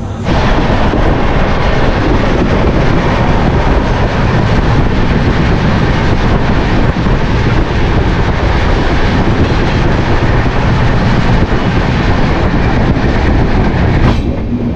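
The Tamralipta Express pulls out of Tamluk station, a loud continuous rumble of wheels and carriages with steady clatter filling the whole stretch, heard from on board.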